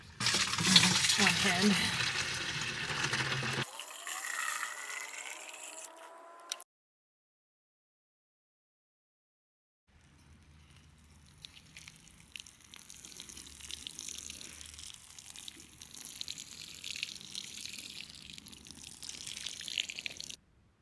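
Water running from a hose or tap while garden plants are watered in a backyard homestead garden, a steady soft splashing hiss after a burst of speech and a pause of silence, fairly close and moderate.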